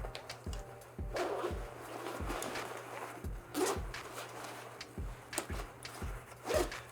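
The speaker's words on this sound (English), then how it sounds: "there is basically a horseshoe zip here" A horseshoe zipper on a Kuiu Pro 6000 backpack is pulled open in a series of short, close, rasping zips with a steady rhythm, each tug sharp and distinct against a quiet background.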